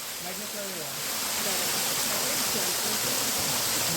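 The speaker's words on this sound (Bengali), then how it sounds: "এই সেই ঝর্ণা।" A waterfall in the Bhutan hills roars as a dense, steady rush of falling water, close and constant, with faint voices beneath it.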